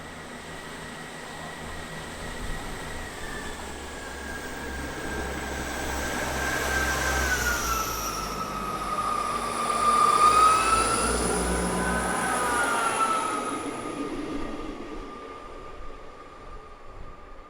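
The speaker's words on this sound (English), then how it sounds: "One 159-108 departs with the 1451 from Yeovil to Waterloo." Class 159 diesel multiple unit departing a station, its engine rumble building then easing as it pulls away, with a rising and falling tonal whine from the transmission, heard from the platform with no talk.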